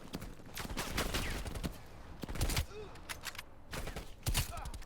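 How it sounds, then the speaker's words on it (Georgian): Rapid gunfire from the Call of Duty Black Ops Cold War video game on PS5, loud bursts and single shots repeating across the clip with brief pauses, mixed with game effects. "კაი ეფექტი აქვს მეგობრებო სროლას"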